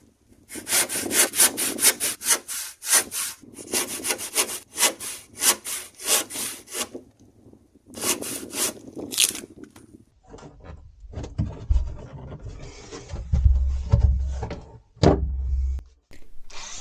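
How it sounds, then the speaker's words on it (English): Fast rasping strokes of an oscillating multi-tool cutting wood in a tight space aboard a boat come in bursts up close, followed by scraping, knocks and handling clatter. "My new favourite tool for working in a tight space is the multi-tool side cutter."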